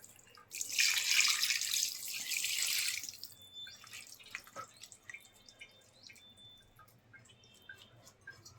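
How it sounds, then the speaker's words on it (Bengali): Water pours in a steady stream for a few seconds into a pan of small fish and potatoes, then stops, leaving scattered drips and light clinks of the pan. "পানি দিয়ে দেবো"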